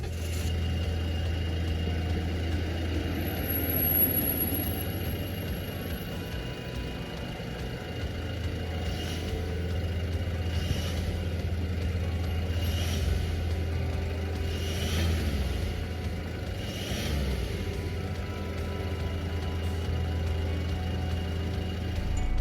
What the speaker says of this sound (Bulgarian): нека запалим автомобила, за да чуем работата на двигателя